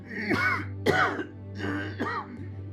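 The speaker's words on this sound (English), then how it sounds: "this your cough is getting worse." Four harsh, raspy coughs in close succession, loud and near, with a low hum in the background.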